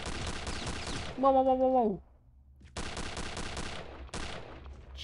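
Gunfire bursts from a parachute rifle in Return to Castle Wolfenstein, loud rapid volleys at the start and again later, broken by a short rising whoosh and a quiet gap, with a man's exclamations over the shots.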